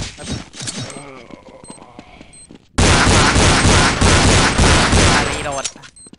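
Rapid, sustained gunfire from the USP pistol in Counter-Strike 1.6. Lighter shots sound under a voice at first, then a loud, continuous barrage of overlapping shots takes over and fades at the end.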